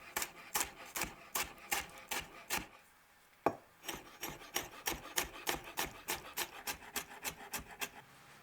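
Bell peppers being diced with a kitchen knife for crab cakes: a steady, rhythmic run of crisp taps against the cutting board, briefly pausing partway, then resuming at an even pace, close and alone.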